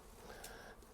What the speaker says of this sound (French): Les abeilles, elles se régalent, là.